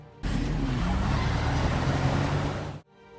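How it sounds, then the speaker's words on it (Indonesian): A car roars off in a getaway, its loud engine surging steadily for a couple of seconds with hints of tire noise, then cutting off abruptly. "Dan Carlton pun berhasil kabur dengan mobilnya."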